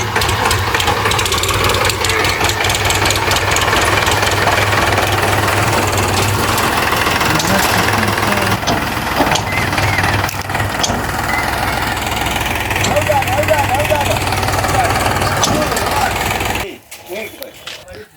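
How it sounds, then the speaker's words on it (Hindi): A heavy diesel tractor engine runs steadily in a wheat field while turning, with a low rumble and rattle, close by, before cutting out abruptly near the end. "और ये ट्रैक्टर भी आ गया। तो यहाँ पास भैया अभी मोड़ रहे हैं ट्रैक्टर को"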